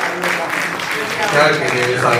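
Audience applause at a literary celebration with poetry recitation, a steady wash of clapping with voices talking over it throughout.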